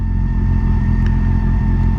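A motorcycle engine with its original exhaust idles steadily, a loud, close, continuous low hum and rumble with no talk.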